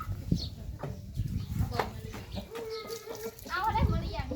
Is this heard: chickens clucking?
yes